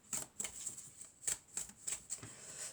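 Tarot cards being shuffled and handled, a run of quick, crisp riffling bursts and soft slaps in an irregular rhythm, close and fairly quiet, with no talking.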